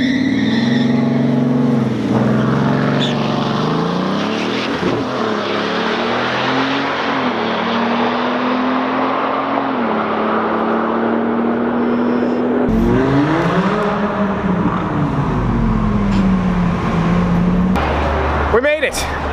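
A Bugatti Veyron at a drag strip during the last drag race of the day, a long engine drone with rising and falling revs and shifting pitch, heard close and steady, with some talking over it.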